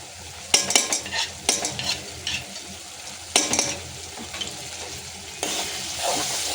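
Coriander and tomatoes sauté in hot oil as a utensil stirs and knocks against the pan, making repeated clattering scrapes over a lively sizzle, with no talking.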